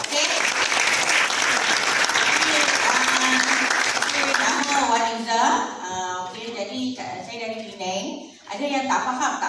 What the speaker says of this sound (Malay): pinjamkan tangan anda untuk bagi tepukan kepada semua diamond